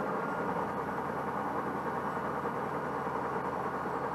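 A QuietDrive electric marine propulsion unit runs at about 1200 rpm aboard a boat, giving a steady, even low hum and whir with a faint rhythmic pulse that holds constant throughout.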